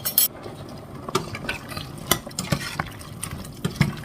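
Pork belly om, a herby stew, being stirred in a pot, with repeated scraping strokes, light clinks of the utensil against the pot and a faint simmer underneath.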